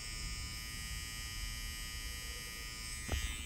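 A Kemei electric hair clipper buzzes steadily and quietly while finishing a haircut, with a brief louder bump near the end.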